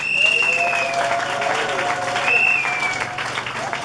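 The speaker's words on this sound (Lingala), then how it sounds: "Acclamez encore." Audience at a community organisation event for widows, told to stand, breaks into sustained applause and cheering with shrill whistles, loud and steady across the crowd.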